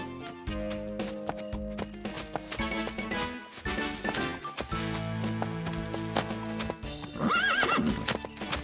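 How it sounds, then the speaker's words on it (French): Horse hooves clip-clop in a steady rhythm, followed near the end by a loud, wavering neigh, with light music in the background. "Ton cheval est bien scellé, Mimi?"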